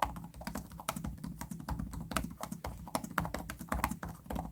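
Typing on the shallow, low-travel keyboard of a Samsung Galaxy Book 6 Ultra laptop: quick irregular clusters of soft clicky keystrokes, close and clear, with no talking.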